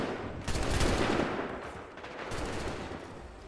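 Rapid volleys of gunfire from Assassin's Creed 3, dense and continuous, swelling loud in the first half then settling into steady, slightly quieter crackling bursts.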